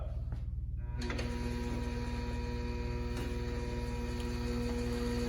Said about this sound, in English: We're gonna turn the system on to run forwards, just to watch how the tracking works for us.